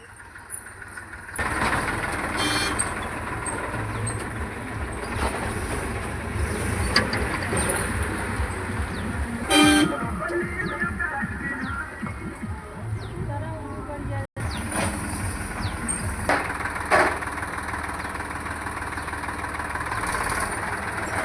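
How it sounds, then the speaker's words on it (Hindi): A tractor engine runs steadily with a continuous low rumble and throb for the whole stretch, while voices talk over it outdoors. "हाँ लेके जाता हूँ ट्रैक्टरवा"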